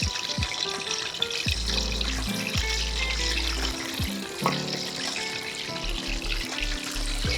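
Masala fish pieces fry in hot oil on a high flame, a steady crackling sizzle with scattered pops and clinks close by, no one speaking.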